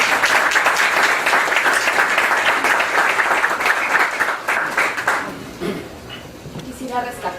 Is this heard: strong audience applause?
yes